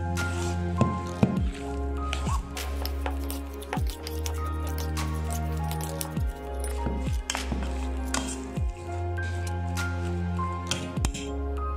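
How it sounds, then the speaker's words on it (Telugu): Chicken pakora batter with cornflour being mixed by hand: wet, squishing sounds repeating in a loose, steady rhythm, close and moderately loud, with a low steady hum underneath. "కార్న్ఫ్లోర్ వేసుకున్న తర్వాత చాలా నీట్గా కలపాలి"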